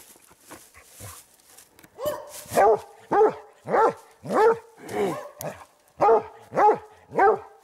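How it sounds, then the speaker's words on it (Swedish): Hunting dogs bark during a bear hunt in Sweden, a run of about ten loud, evenly spaced barks close by after a few softer yips and whines at the start. "Duktiga hundar!"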